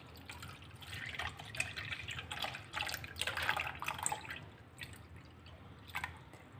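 Buttermilk is poured from a measuring cup into a mixing bowl in a home kitchen for khichu, a quiet irregular splashing and trickling with brief drips and gurgles.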